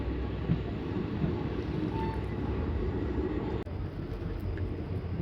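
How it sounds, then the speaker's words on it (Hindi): Indian passenger train 14526 from Shri Ganganagar to Ambala pulling away after being overtaken, a steady loud rumble of wheels and wind roaring throughout, with a brief dip near the end. "लो जी साथियों ओवरटेक खाने के बाद अब निकली अपनी ट्रेन लहरा मोहब्बत से।"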